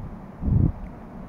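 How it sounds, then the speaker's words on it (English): A brief gust of wind rumbles across the microphone, a short low buffeting burst that fades back to a quiet outdoor hiss. "It is windy as heck."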